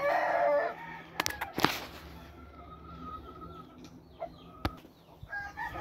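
A game rooster crows and clucks close by, with several sharp clicks and thumps scattered through, then a few softer clucks near the end.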